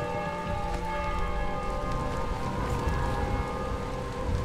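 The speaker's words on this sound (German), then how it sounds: "Das regnet, ne?" Steady rain in the video game Dying Light, a soft continuous hiss of falling water. A wavering, siren-like tonal drone of game ambience runs over it throughout.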